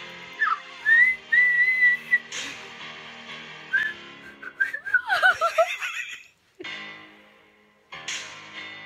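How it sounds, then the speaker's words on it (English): A person whistles a few short melodic phrases, close and fairly loud, broken by bursts of laughter and giggling from more than one person. "Do it, the whistle."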